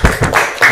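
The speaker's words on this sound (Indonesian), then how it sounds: "Give them applause. Beri tepuk tangan." Brief, dense classroom applause from a group of young students, close and loud, ending almost as soon as it starts.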